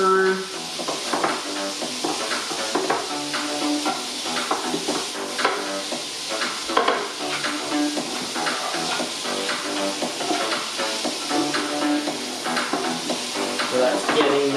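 Steak strips sizzling in a hot frying pan while being stirred for a South American sandwich, a loud, continuous close hiss with steady scraping and clatter of the utensil against the pan.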